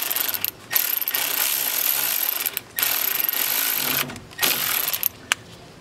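A ratchet tightening a bolt on a 1987–1991 Ford Bronco during steering column work gives close, loud bursts of rapid clicking, broken by short pauses between strokes.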